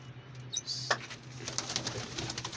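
Pigeons among a flock of 33 coo softly and repeatedly, with a low steady murmur underneath and a few brief brighter bird calls and wing sounds, all moderately near.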